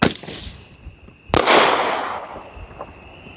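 Roman candle firework shots outdoors, a sharp crack at the start and a second loud bang with a long crackling, hissing tail that fades slowly.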